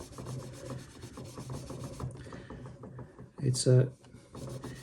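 Fine 2000–3000 grit sandpaper rubs back and forth over the frets of a Japanese Stratocaster, a soft, close, rhythmic scratching under a man's speech, ending in a brief louder scrape.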